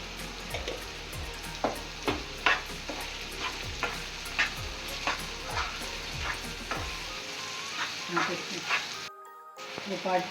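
Egg bhurji sizzles and fries in a pan with turmeric going in, a steady crackling hiss broken by regular stirring scrapes. A dog barks faintly in the background, and a brief silent gap comes near the end.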